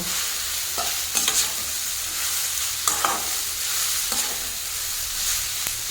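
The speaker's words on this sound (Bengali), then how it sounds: "এটাকে হালকা করে একটু নেড়ে নেব।" Chowmein tossed in a pan with onion, cucumber and green chilli, a constant close sizzle with a few bursts of scraping spatula strokes spaced a second or two apart.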